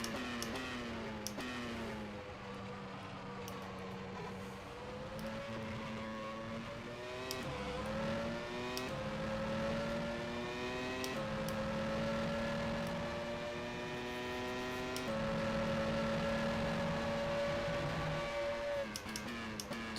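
A 1996 Formula One car engine in rFactor 2 screams at high revs for the full stretch, its pitch climbing through gears with sharp drops at each upshift, loud and steady with no talk over it.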